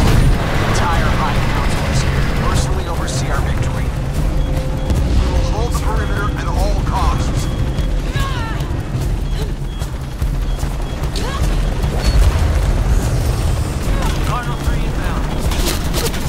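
Tank cannon fire, explosions and bursts of gunfire from the Shadow of the Tomb Raider video game crash in a dense, continuous barrage of booms and shots, loud throughout, with voices talking over the battle.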